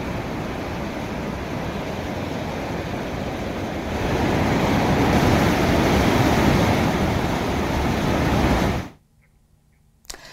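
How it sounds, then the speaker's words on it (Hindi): The flooded Alaknanda river near Vishnuprayag rushes past in a steady, loud, roaring torrent with no voices, swelling slightly in the middle before cutting off abruptly near the end. "विष्णुप्रयाग के पास अलकनंदा नदी ने भी अब अपना रौद्र रूप धारण किया हुआ है"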